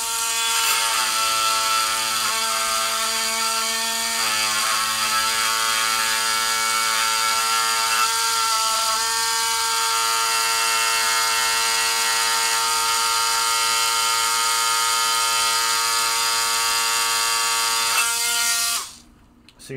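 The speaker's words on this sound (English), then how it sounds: "I'm going to get in there with my buzzer. This is why I like using this tool." A handheld electric buzzer tool drones steadily for nearly twenty seconds against a relay in a Gottlieb Gold Strike pinball machine, a loud, close harmonic hum with slight pitch shifts before cutting off at the end.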